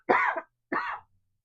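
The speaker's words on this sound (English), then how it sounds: "I'm going to cough again" Two short, harsh coughs from one person, close by, the first a little longer than the second, separated by a brief pause with no talking.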